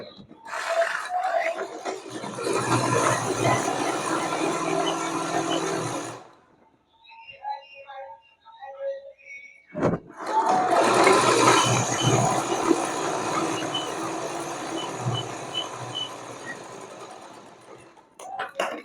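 An electric sewing machine stitches a small dress for a Laddu Gopal figure, running in two long, steady whirring passes split by a brief pause with light handling sounds.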